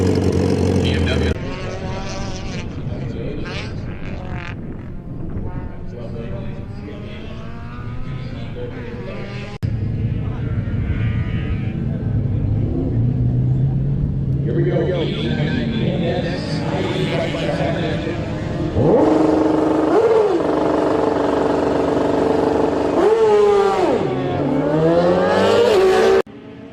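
A pair of BMW drag racing motorcycles at a heads-up shootout series event in Canada roar continuously, engines revving and climbing in pitch as they launch, loud and near, with an announcer talking over them.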